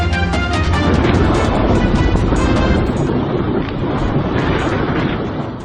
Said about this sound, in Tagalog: Halos walang makita sa lakas ng hangin at ulan.